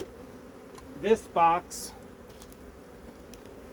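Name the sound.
honey bees buzzing in a hive brood box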